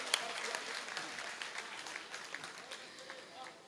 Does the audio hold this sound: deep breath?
no